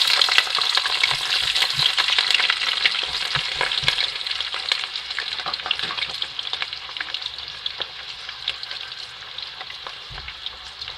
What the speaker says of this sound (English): So right now we are going to add our onions.